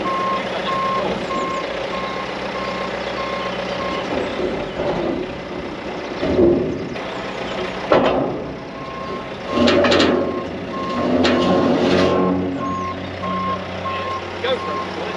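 A small telehandler reverses while loading onto a massive trailer: a steady reversing beeper repeats over a rumbling diesel engine, with a few louder mechanical clunks and surges partway through.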